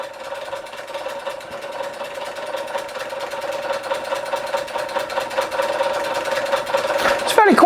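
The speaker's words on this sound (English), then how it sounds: "Empire B-33 in action." An Empire B-33 engine, a restored small engine, running steadily with a fast rhythmic mechanical chatter and strong hum, growing slightly louder, ending in a brief clatter.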